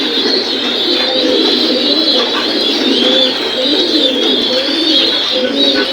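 Lahori pigeons at a large Bangladeshi pigeon farm keep up a close, overlapping chorus of soft, throaty coos and murmurs.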